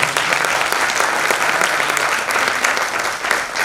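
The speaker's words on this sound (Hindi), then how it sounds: "जोरदार तालियां बजाइए।" Sustained applause from a theatre audience after a Hindi stage play at Shaheed Bhavan in Bhopal, dense and even clapping lasting several seconds without talk.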